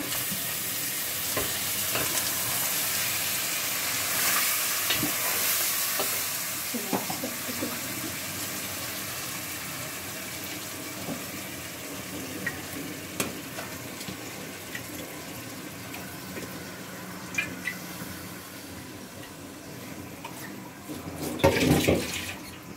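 Beef pieces land in a hot pan with oil and fry in a steady, loud sizzle while being stirred, with occasional scraping clinks, in a home kitchen for a Bengali beef curry.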